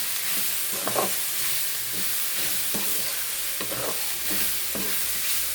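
Tomato added to a hot pan with green chilies, sizzling steadily while a utensil scrapes and stirs in repeated soft strokes, close and continuous with no talking.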